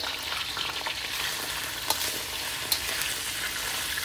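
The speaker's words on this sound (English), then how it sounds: "We don't want to cook them completely. We just want to brown them." Shrimp browning in a hot pan for pineapple fried rice, producing a loud, even sizzle at close range, broken by two brief sharp clicks from stirring.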